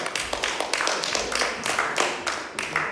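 Audience members at a mentalism show clap in a loose, fairly sparse burst: separate sharp hand claps land at an uneven rhythm over a light patter of other hands, moderately close.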